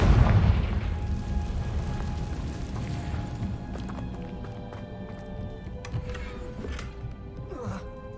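A Confringo blasting curse explodes in the Hogwarts Legacy video game, a strong blast at the start that decays into a long rumbling tail, with scattered clatter and ambient game sound afterward.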